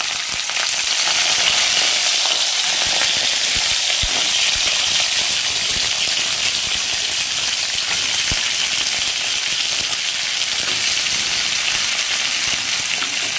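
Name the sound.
flat beans frying in oil with black cumin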